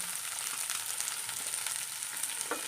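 Onion frying in a pan gives a steady, quiet hiss and crackle of hot oil up close, with a faint tap or scrape near the end and no talking.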